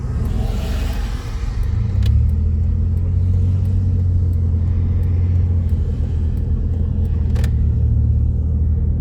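A Jeep truck passes in Sunday traffic on a road trip: a rumbling engine swells up close, then settles into a steady low road drone, with a few faint clicks and no voices.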